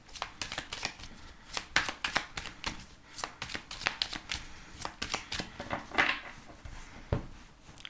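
Tarot cards shuffled by hand before the cut, a close run of quick riffling flicks and soft slaps with no talking over them.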